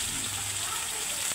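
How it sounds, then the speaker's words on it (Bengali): Potatoes fry with onion and spice paste in a hot pan, a steady close sizzle and crackle running through the whole short stretch with no voices over it. "এখন আমি পেঁয়াজ মশলাটা ছেড়ে দিচ্ছি। এর সাথে আমি আলুগুলো সেঁকে দিয়ে দেবো।"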